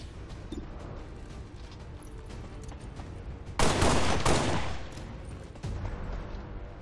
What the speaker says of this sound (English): Nahibi is just about to put a couple of rounds in the head of this sectoid here